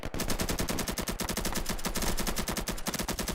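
Rapid automatic gunfire from enemies shooting in the Fallout video game, a loud, continuous stream of sharp shots with a fast even rhythm, heard alone without talk.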